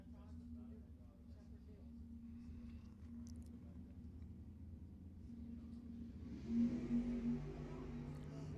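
Drag racing at Lebanon Valley Dragway: a 1968 Dodge Dart and a Chevrolet Vega, both five-second door cars, rumble steadily in the distance before a louder engine surge near the end, with a crowd murmuring underneath.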